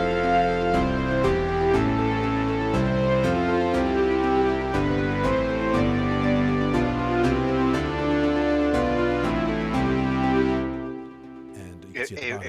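An AI-generated chord progression plays with each chord broken into repeating notes within the bar, a steady rhythmic pulse of layered synth tones for about eleven seconds before fading into a brief bit of talk.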